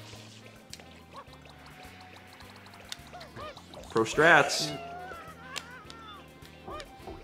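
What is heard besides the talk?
ducks quacking in Super Mario Sunshine video game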